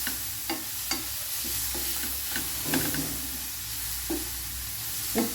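Onion and capsicum stirred and fried in a pan, a continuous low sizzle with intermittent scraping taps of the spoon against the pan at an irregular pace.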